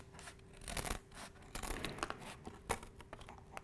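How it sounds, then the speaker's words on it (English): Strong kitchen scissors snip through a cardboard sheet, cutting out rectangles for a cardboard launcher: a close series of crisp, crunchy cuts and tearing rasps with brief pauses between strokes, heard alone. "take our scissors and cut out each of these rectangles from our cardboard sheet"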